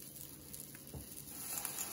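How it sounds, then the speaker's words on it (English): Soft, continuous sizzling of food cooking on a hot Lodge Blacklock cast iron griddle, fairly quiet with a faint thump partway through. "How that's got some sizzle to it?"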